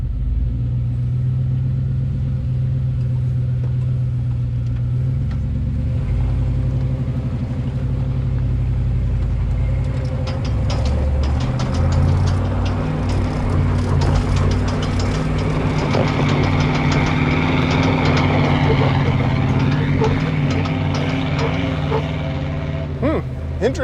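An off-road vehicle with a locker and 456 gears grinds through a dug-out crater, its engine rumbling low and steady up close, growing rougher and busier partway through, with voices talking over it.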